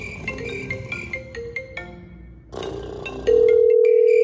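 A phone call ringing out, a melodic ringtone of repeated bright electronic notes, then a sustained loud tone near the end, with no one speaking.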